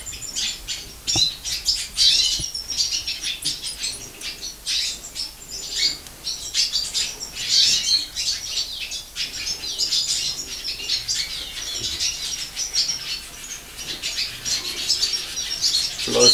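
A finch squawks and chirps in a rapid, repeated series of shrill calls while being handled, close and fairly loud, with faint wing flutters and handling noise.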